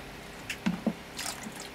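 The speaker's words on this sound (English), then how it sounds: "So I've just finished getting all the water out of the locker." Water drips and trickles sparsely inside a boat locker after bailing, a few small wet taps and splashes spaced irregularly, faint and close.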